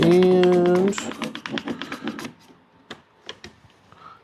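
Clamps tightened on aligned wooden boards while building a quail house: a few sharp, close clicks and taps follow a short stretch of talk, then scattered quieter ticks.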